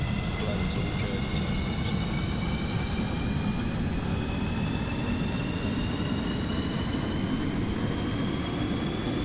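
Aircraft engine in Stormworks: Build and Rescue throttling up, a steady, loud drone with a constant whine, running continuously throughout.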